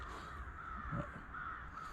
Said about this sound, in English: I don't mind the crows.